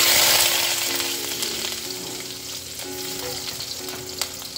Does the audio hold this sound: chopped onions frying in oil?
yes